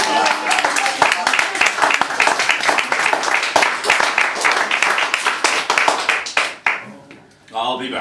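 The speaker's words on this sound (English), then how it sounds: "Don't you get any applause?" An audience at a poetry reading breaks into lively close clapping, dense and fairly loud, tapering off near the end as a voice speaks over the last moments.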